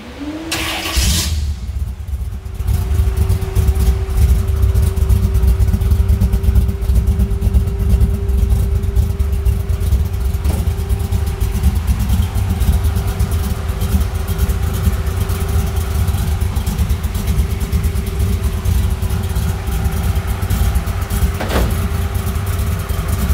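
A custom pearl white Chevy box car engine cranks and catches, then settles into a steady, loud idle with a low, even rumble throughout.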